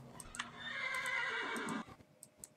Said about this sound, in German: Ich werde jetzt leider wieder Pferde schlachten müssen.